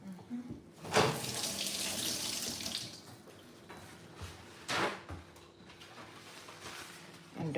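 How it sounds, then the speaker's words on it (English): Water from a kitchen tap runs and splashes as a cucumber is rinsed under it, with a steady hiss and two louder surges of flow, fairly close and quiet. "Let me wash this cucumber."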